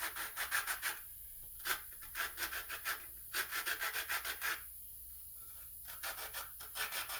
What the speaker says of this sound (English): I'm just going to hit the edges here with a little bit of very coarse sandpaper